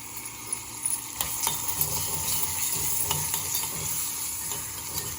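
Urad dal and chana dal frying in oil in a pan for upma, giving a steady close sizzle broken by sharp scrapes and taps from stirring, with no talking.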